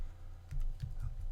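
Typing on a computer keyboard: a short run of close, soft key clicks in an uneven rhythm against a quiet background.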